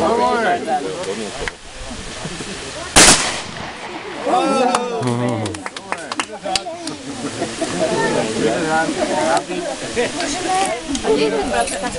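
Gunshots fired in a pheasant-hunting shooting demonstration, with a single loud sharp report standing out near the start among outdoor crowd chatter and talk.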